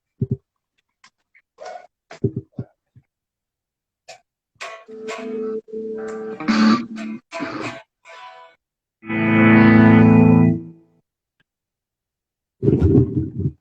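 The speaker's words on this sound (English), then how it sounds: "Let's keep the distortion on and let's see." Electric guitar with distortion plays scattered short licks and picked notes, then a sustained, buzzing chord, separated by brief silences, up close and fairly loud.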